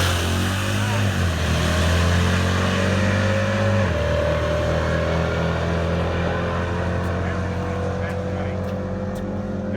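A drag racing car accelerates hard down the strip, its loud engine drone stepping through gear changes with falling and rising tones, heard close under continuous crowd and track noise.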